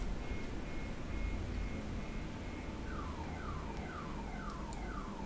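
A car alarm blares inside the Dead Island Definitive Edition zombie game, looping repeated rising electronic tones over steady background noise for the whole stretch, loud and close, with no one talking.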